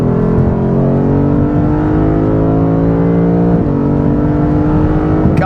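A 2021 Lexus RC F Fuji Speedway Edition accelerating hard on a race track, its engine note climbing in a steady loud drone with a brief drop at a gear change before rising again.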